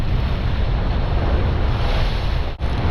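Strong wind batters the microphone over crashing waves on a remote island shore, a loud, continuous roar with a brief dip near the end, and no voices.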